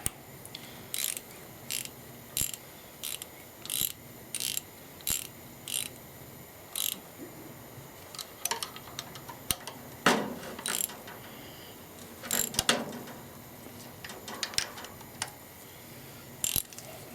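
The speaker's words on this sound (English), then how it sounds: "Wind both of them down. Don't tighten one up first." A wrench ratchet winds down the injector nuts on a 70-year-old International 275 tractor, with close, repeated bursts of clicking that come in a steady rhythm and then turn more irregular, with metallic knocks mixed in.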